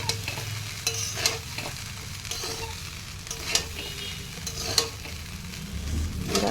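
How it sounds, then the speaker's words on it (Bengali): Fried rice sizzles in a hot pan while being stirred, with repeated scraping and clanking strokes of a utensil over a continuous frying hiss. "এবার এটাকে ভালো করে নাড়াচাড়া করে ভাজা করব।"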